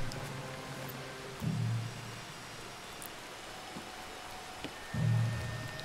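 Rain in the video game Red Dead Redemption 2 makes a steady, soft hiss throughout, broken by two brief low thumps a few seconds apart.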